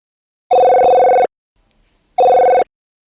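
A telephone rings twice, each loud electronic ring lasting under a second, separated by a short silent gap, close and clear with no voices.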